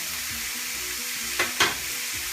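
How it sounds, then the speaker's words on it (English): Garlic hits hot oil in a chicken stir-fry pan, giving a steady close-up sizzle broken by two short, louder hissing bursts. "I'll put some garlic in there."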